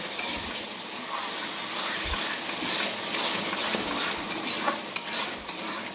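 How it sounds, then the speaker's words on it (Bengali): Spice masala being stirred in a pan for a chicken curry: a steady close scraping and soft sizzle with irregular spoon clatters against the metal, loudest toward the end, with no talk. "এবার আবার নাড়িয়ে দিলাম।"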